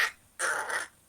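A voice imitates strange, frustrated bird noises in two short, raspy caw-like bursts, the second longer, close and moderately loud with no other sound.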